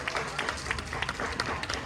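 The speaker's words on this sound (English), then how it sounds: "Big round of applause for our team when they hit the ground." Audience applause after a stunt demonstration at the Marvelous Mysteries of Fright Manor show, a moderate patter of clapping hands mixed with scattered crowd noise.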